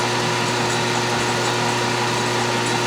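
A tiny center drill boring a starter hole in metal on a small machine, a steady high whine running without a break for about three seconds, close and fairly loud with no talking.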